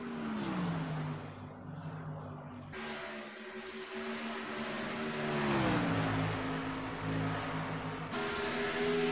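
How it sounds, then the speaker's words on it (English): Race cars in a racing video game pull onto pit road, their engines holding a steady, loud drone that rises and falls in pitch as they slow and shift, with no talk over it. "Couple other cars hitting pit road."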